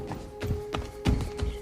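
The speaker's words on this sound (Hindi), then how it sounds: "तभी अचानक भेलाघर के बाहर से किसी के दौड़ने की आवाज आई।" Running footsteps outside a house, as a sound effect: four heavy, evenly spaced thuds close by, with no voices.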